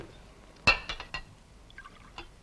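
Scotch poured into a glass in a quiet room: a sharp clink as the bottle meets the rim, then a few short splashing pours and a faint final tap, alone with no talk.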